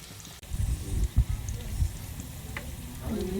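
Kadubu dumplings dropped into hot oil give a close, crackling sizzle with bubbling bursts that settle into a steadier fry, with faint background noise.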